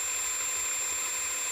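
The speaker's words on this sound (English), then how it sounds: "So I've got a suitable hole saw here, which I'm going to go in delicately." A hole saw on a power drill bores delicately into a solid chocolate Easter bunny, giving a steady, fairly quiet high whirring whine that holds unbroken throughout, with no voices.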